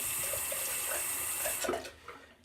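Hot water runs from a tap into the inner chamber of a shaving scuttle, a steady broadband rush lasting about a second and a half before it cuts off into a few faint clinks and drips.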